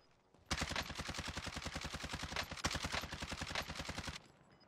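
Rapid automatic gunfire in Call of Duty Warzone, most likely a Mac-10, a loud, tight burst of evenly spaced shots lasting about four seconds before it stops abruptly, with no talk over it.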